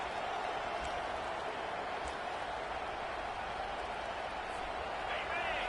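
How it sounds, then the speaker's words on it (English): A football stadium crowd roars in a steady, dense wash of noise that fills the clip without pause, heard under a commentator talking. "This crowd, full throat, splitting the eardrums and letting them know it's going to be a long day."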